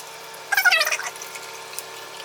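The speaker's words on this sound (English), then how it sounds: "now I'm gonna put in the water" Water pouring from a tap into a Stanley 64 oz tumbler packed with ice, a short bright splashing gush that fades into a faint trickle, with no talk.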